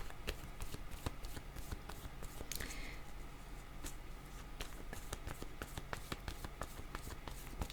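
Tarot cards are shuffled and drawn in a quiet, close, steady run of soft riffles and flicks. Faint room noise sits underneath.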